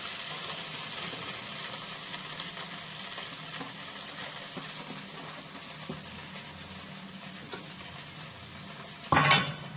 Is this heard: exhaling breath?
no